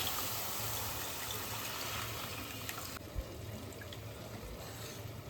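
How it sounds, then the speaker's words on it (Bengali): Water pours steadily into a pot of chicken soup, a continuous close splashing stream without voices. "এবারে মাংসটা ঢেলে দিলাম, জলটা ঢেলে দিচ্ছি।"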